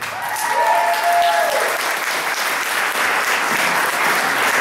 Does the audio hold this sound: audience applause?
yes